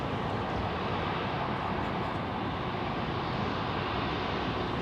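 Atlas Air aircraft at Anchorage airport, a steady broadband engine roar with no distinct events, constant and moderately loud throughout.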